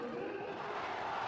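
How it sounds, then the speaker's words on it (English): A packed crowd roars and cheers at the Hong Kong Sixes cricket final between Pakistan and Sri Lanka, a brief, steady wall of distant crowd noise without a break. "Brilliant to hear the crowds."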